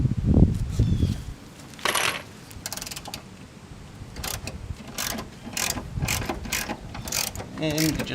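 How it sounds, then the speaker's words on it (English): A ratchet with an extension and a deep 12mm socket loosens bolts on rear shock mounts, giving short bursts of rapid, close metallic clicking separated by brief pauses. "I'm going to use a ratchet with an extension and then a deep 12mm socket."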